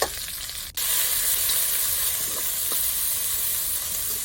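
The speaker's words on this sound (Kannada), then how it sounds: "ಫ್ರೈ ಆದಮೇಲೆ ಒಂದು ಈರುಳ್ಳಿ ಕೂಡ ಹಾಕುವ," Onion sizzles in hot oil with curry leaves, dried chillies and crushed garlic, a steady close hiss of frying with a brief break near the start.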